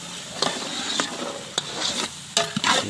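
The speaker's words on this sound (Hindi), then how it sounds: "पनीर को फ्राई किया जा रहा है, ये मसाला रेडी हो गया है पनीर के लिए।" Paneer frying in masala on a stove, with steady sizzling broken by a few sharp scraping stirs of a spoon in the pan, close and moderately loud.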